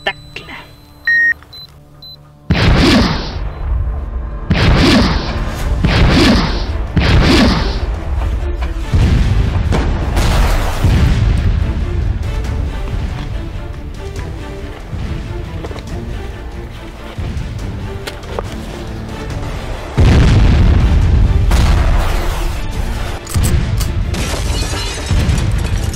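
Explosions hit a base under attack in a film scene: several sharp booms burst in quick succession after a quiet opening, followed by rumbling debris and a sustained roar, with a later heavy blast near the end.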